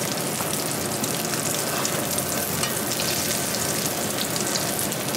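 Pain perdu, French toast, frying in butter in a pan, giving a steady, loud, crackling sizzle that runs unbroken throughout with no voices.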